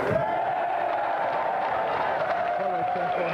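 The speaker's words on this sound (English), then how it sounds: "that round of applause for our champion, Chevron Hart!" Studio audience at a television game show celebrating its champion, a sustained roar of clapping and cheering with a loud voice talking over it throughout.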